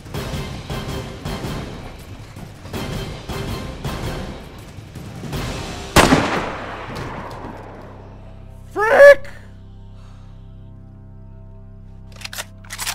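Gunfire in the video game DayZ: a run of sharp, rapid shots followed by a single louder blast with a ringing decay, then a short vocal sound and a few faint clicks.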